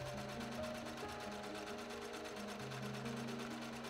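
A sewing machine stitches together skirt panels for a Victorian bustle era costume, running in a steady continuous hum with a fast even stitching rhythm, close and moderately loud, with no talking.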